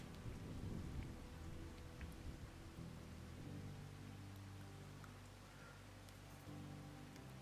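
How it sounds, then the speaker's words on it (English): Steady rain falling on a Farming Simulator 22 map, a soft continuous hiss with a low rumble of thunder swelling early and fading, fairly quiet and without talk. "I hear the rain. I think it's raining or hailing on the map."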